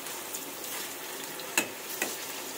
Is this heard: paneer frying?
yes